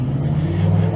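Steady traffic noise from trucks and cars passing through a small town, a low engine drone with a faint hum, heard briefly and fairly quietly with no talk.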